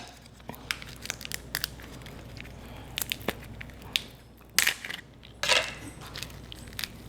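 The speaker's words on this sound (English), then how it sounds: "What you do is you open the crab up" Crab shell cracked open by hand while making New Orleans seafood gumbo: a series of sharp crunches and crackles, close and fairly loud, with two bigger cracking bursts near the middle, alone without talk.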